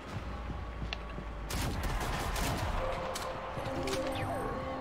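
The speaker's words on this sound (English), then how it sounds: "Freaking shotgun" Dense gunfire in Shadowgun Legends PvP, with shotgun blasts and rapid shots crashing together into a loud, sustained barrage with a few scattered pops.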